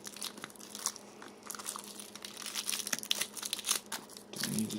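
Crinkly cellophane wrap peeled off an Innokin MVP 3.0 Pro vape starter kit box, a close run of crackling, crunching bursts with no talk.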